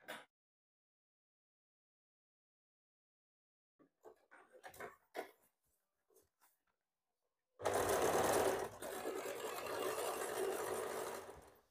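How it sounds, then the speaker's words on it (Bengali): A sewing machine runs a steady, loud stitching burst while a blouse seam is sewn, following a quiet stretch with a few faint handling clicks and taps. "দ্বিতীয় দিকে কিন্তু আমি একইভাবে সেলাইটা করে নিচ্ছি"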